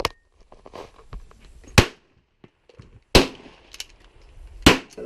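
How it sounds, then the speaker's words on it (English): Three sharp, loud pistol shots from a Nighthawk Custom T3 Comp at a shooting range, evenly spaced about a second and a half apart, with quieter handling clicks between them. "we're going to go ahead and do some shooting now"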